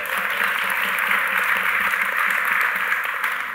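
Steady applause from an audience at a talk or conversation event, a dense continuous patter of many hands holding at even strength throughout, fairly near and with no voices over it.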